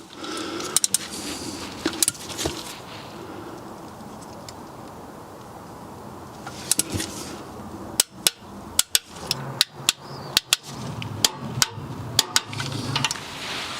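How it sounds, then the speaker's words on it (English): Bolts on a Mini Cooper oil pan being torqued down with a hand tool after a sump gasket replacement, heard as a run of sharp metallic clicks and knocks, sparse at first and then in a quick irregular burst toward the end. "let's just get all these bolts torqued down"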